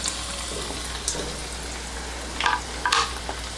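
Finely chopped ginger and garlic fry in a hot oil tempering with cardamom, cloves and asafoetida for dal tadka, a soft, steady sizzle broken by a few brief spoon-scraping clicks.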